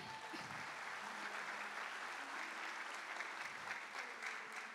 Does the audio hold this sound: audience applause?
yes